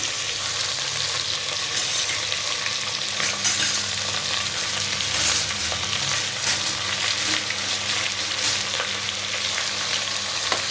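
Onions sauté in a pan for a mutton and drumstick kurma, giving a continuous close sizzle with frequent scraping stir strokes throughout and no voices.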